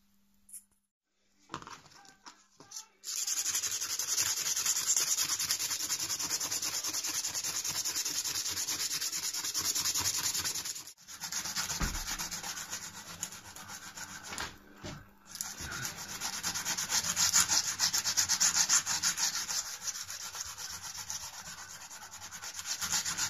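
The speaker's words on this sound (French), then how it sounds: "maintenant, je vais essayer de poncer le tout, essayer de redonner un petit look rajeuni" A punch made from a screwdriver being sanded by hand, a close, continuous rasping rub that runs for about twenty seconds with short pauses near the start and middle.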